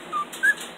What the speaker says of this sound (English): There you go, she's whistling.